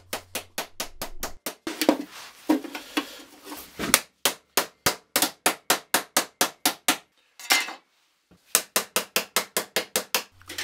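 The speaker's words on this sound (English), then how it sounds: "I love seeing the metal take shape just with a few blows of the hammer." Hammer blows shape an aluminium metal helmet in a rapid series of sharp, ringing metallic strikes, close and loud, delivered in quick regular bursts with brief pauses between runs.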